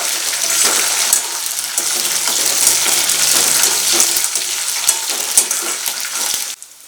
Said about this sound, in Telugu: కరివేపాకు, పచ్చిమిరపకాయలు, ఎండుమిరపకాయలు కూడా బాగా క్రిస్పీగా వేగాయి.